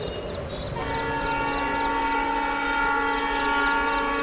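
A train arrives at a small station, its long, steady horn or whistle sounding over a rumbling rail background and growing louder for several seconds.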